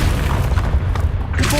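A Confringo fire spell blast in the Hogwarts Legacy video game: a loud, boomy burst with dense low-end energy sustained across the clip, plus layered game effects and a brief tonal swell near the end.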